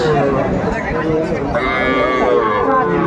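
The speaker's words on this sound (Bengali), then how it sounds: "কোয়ালিটি সম্পন্ন যে সার গরুগুলো বেচা কিনা হচ্ছে, আমরা সেই জায়গায় রয়েছি।" Sahiwal bull calves at a cattle market give long, loud, drawn-out moos, one after another, with faint crowd chatter in the background.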